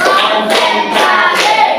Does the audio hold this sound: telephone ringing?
no